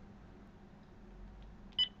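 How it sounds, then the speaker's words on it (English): A phone gives a short electronic beep as a call is hung up, one brief tone near the end after a near-silent stretch. "I'm gonna hang up now"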